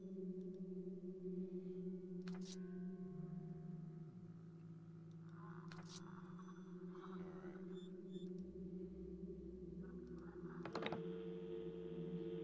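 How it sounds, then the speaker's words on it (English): Keyboard typing in a video game, a quiet run of scattered key clicks over a steady low electronic hum, with a few sharper clicks standing out. "Wasn't there just typing?"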